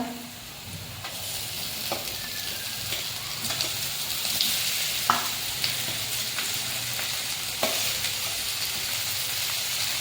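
A spoon scrapes and stirs a thick mixture of boiled potato, turmeric and salt for vada pav in a sizzling pan, with occasional sharper clinks over a continuous frying hiss.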